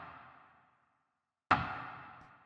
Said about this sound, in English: So this is like a nice kind of rim shot